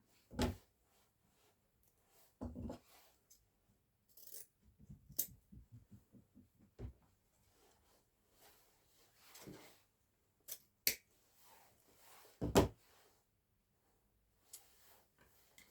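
Scissors snip through a cable tie or pipe cleaner on an artificial Easter candlestick arrangement, giving sparse, sharp clicks and snaps with quiet gaps between them, plus a brief rattling run of small ticks, all close and faint.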